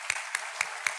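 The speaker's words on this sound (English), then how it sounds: "So give a huge applause for Sangathan" Crowd applause at the Sangathan 2022 inaugural ceremony at Amity University Noida, a brief steady wash of hand-clapping with a few sharper claps standing out at an even beat.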